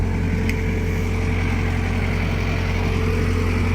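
An old Thomas T320 track loader, about a 2005 to 2007 model, runs at a steady idle with a constant low rumble and even mechanical hum, close and unchanging throughout.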